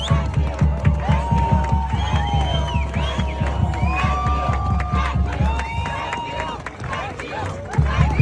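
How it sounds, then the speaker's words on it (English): A large outdoor crowd of Iranians cheers and whistles continuously, shrill whistles sliding above a dense roar of voices and rhythmic clapping, loud and close. "all the Iranians are like cheering and whistling"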